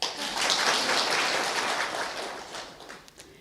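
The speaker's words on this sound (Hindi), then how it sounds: "हाँ, तो अपने लिए आप खूब ताली बजाओ" Audience applause at a spiritual class session, a broad steady wash of many hands clapping that holds strong, then gradually thins and fades toward the end.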